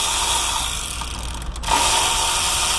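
A power tool loosens alternator bracket bolts on a Ford Econoline with a 4.6 or 5.4 engine, giving a steady, close, whirring mechanical drone with a brief dip partway through and no speech.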